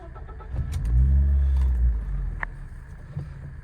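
A 2006 third-generation Toyota RAV4's engine cranks and starts, rising to a low hum before settling into a quiet idle, with a short beep afterward.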